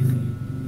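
A motorcycle engine passing close by, heard as a low, steady droning rumble that is fairly loud and even through the short moment, with no talk over it.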